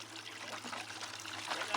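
Water pours and trickles steadily through a green gold wash plant trommel, a continuous broadband rush with brief louder surges near the end; speech is also tagged faintly.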